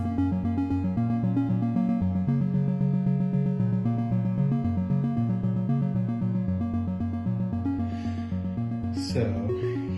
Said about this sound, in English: The sound you hear now is one of several compositions made with the Weft pattern